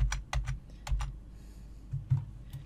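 Arrow keys tapped on a computer keyboard while lining up a stair in Tinkercad: a few quick clicks in two clusters with short pauses, close and clear, no talk.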